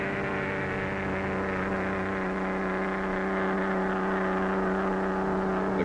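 An Austin Healey car whirls past on the Bonneville salt flats with a steady, humming engine drone that holds at an even level, its low rumble thinning partway through, with no voices.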